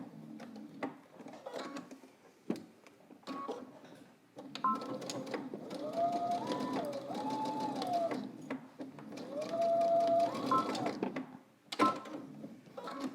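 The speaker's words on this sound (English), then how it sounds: "using 5/8 of an inch seam allowance. I'm going to sew to the dot." A sewing machine stitches a coat seam with a 5/8 inch seam allowance, running in several short bursts with pauses and a few clicks between them, fairly quiet and close.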